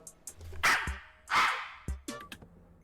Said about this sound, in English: Sounds like a freaking chihuahua.